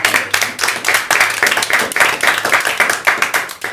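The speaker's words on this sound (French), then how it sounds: "Déjà, on peut applaudir l'équipe de Jérémy, Lolita et Alex qui arrive en première position." A small group claps for the first-place team at a quiz event, with brisk, dense, close applause holding steady for several seconds.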